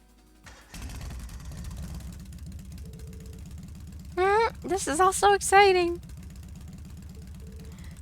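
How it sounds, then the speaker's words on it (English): An Orbal Bike engine in The Legend of Heroes: Trails of Cold Steel catches and settles into a steady, low idling rumble that runs throughout, with a voice talking briefly over it. "Alright, I'm going to start up the engine now"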